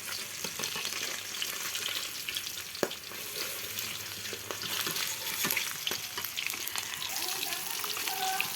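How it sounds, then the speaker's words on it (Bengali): Pieces of a 5 kg rohu from the Padma river fry in oil, a constant crackling sizzle with occasional stirring clinks, fairly faint and steady throughout. "আমার মাছটা ভাজা হয়ে গেছে, বেশি ভাজবো না"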